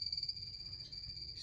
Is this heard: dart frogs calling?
yes